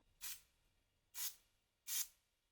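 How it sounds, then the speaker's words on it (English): Three short, bright hissing spray bursts of CA glue activator, evenly spaced about a second apart, each quick puff fading fast into near silence. "I've just sprayed some"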